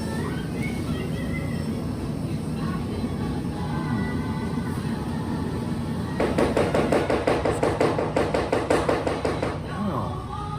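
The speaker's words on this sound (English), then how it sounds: "That sound in the background is someone chopping up brisket." Brisket is chopped at a Texas gas station: busy background chatter first, then a quick run of sharp, regular knife strikes on a cutting board that lasts several seconds.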